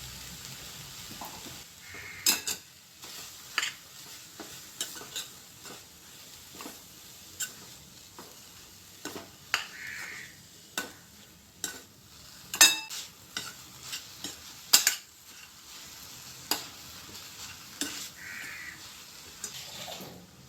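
Jackfruit seeds and spinach leaves stir-fried in a pan for a Kerala dish, with intermittent scraping and stirring clatter over a soft sizzle, while crows caw now and then in the background.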